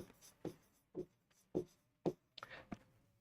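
A pen or marker taps and scratches across a board in about six short, separate strokes, faint and close, with no talk.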